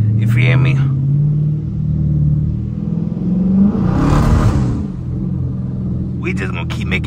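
A Dodge Challenger R/T engine rumbles and revs from inside the car while driving on a wet road at night, a steady low drone with a rising surge midway, and voices talk over it at the start and end.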